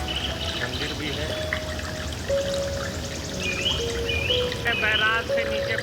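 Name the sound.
water released flowing down from a barrage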